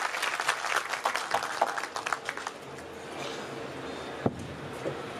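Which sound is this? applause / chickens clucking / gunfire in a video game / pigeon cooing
applause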